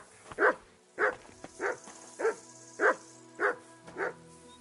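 A dog named Mutt in Kingdom Come Deliverance 2 barks seven times at an even, unhurried pace, each bark loud and close, with nothing else sounding between them.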